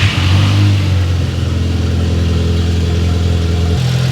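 An Audi S3 engine runs close and loud at a steady idle with a deep, even hum, then the pitch and tone shift slightly near the end.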